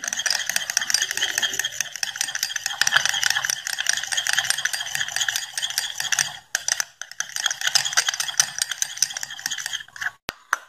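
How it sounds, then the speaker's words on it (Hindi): Bhringraj and olive oil are stirred together in a bowl to make a homemade hair oil, giving a steady close scraping and clinking that rattles on for several seconds before brief pauses. "अब इन दोनों चीजों को आप अच्छे से मिक्स कर दें।"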